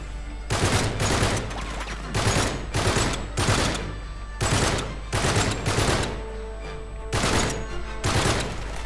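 Rapid bursts of gunfire in Uncharted 3, repeated volleys of loud automatic shots separated by short pauses, steady and close.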